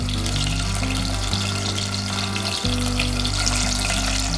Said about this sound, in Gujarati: આવી રીતે આપણે બધા જ રીંગણ અને બટાકાને તેલની અંદર 2 થી 3 મિનિટ માટે સાંતળી લઈશું